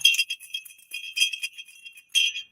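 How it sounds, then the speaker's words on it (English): A large metal bell with a hanging cord rings in several quick clusters of bright, high jingling strikes separated by short pauses. "It is actually a pretty big bell."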